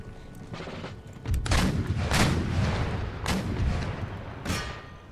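A battery of five 24-pounder horse artillery guns fires in Empire Total War, heavy booming cannon shots overlapping with rolling volleys and crackling gunfire, loud and sustained with a few sharper blasts standing out.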